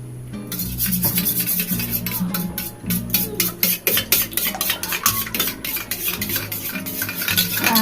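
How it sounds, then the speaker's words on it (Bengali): A spoon stirs red chili sauce, green chili sauce and soy sauce together in a bowl for gravy chili chicken: rapid, rhythmic scraping and clinking strokes, close and continuous, over a steady low tonal background. "আগে ভালো করে গুলে নেব"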